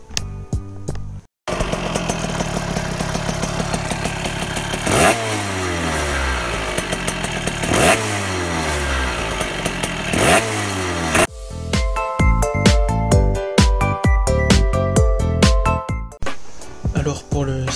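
A tuned two-stroke moped engine with a 24 PWK carburetor, RQ intake, V-Force reed valve and MVT S-Race exhaust revs hard and high-pitched in several sharp bursts, then crackles and pops as it idles unevenly up close.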